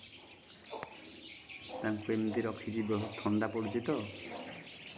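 About a hundred ducklings kept under a warming light chirp and peep in a dense cluster, heard close alongside someone talking.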